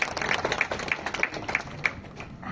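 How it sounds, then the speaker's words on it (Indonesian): Audience applause at an Indonesian stage event introducing a singer: a thin, scattered patter of hands with a few sharper individual claps standing out, fairly faint and at middle distance. "Tepuk tangan."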